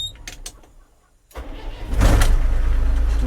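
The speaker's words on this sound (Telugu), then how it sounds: "ఇంజిన్ అయితే స్టార్ట్ చేస్తున్నాను." A loaded truck's engine cranks and catches after a brief near-silence, then settles into a loud, close, rumbling idle.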